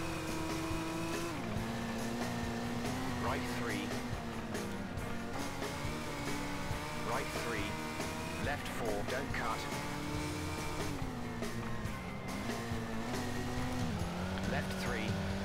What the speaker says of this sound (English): You can hear the rumble.